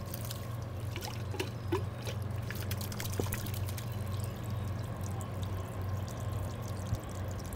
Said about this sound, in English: You're ready to go ahead and turn on the water and give it a test.